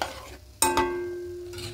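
A spatula scrapes and clinks against a pan as sugar is stirred into bottle gourd shukto, a soft bubbling simmer underneath followed by one sharp metallic knock that rings briefly.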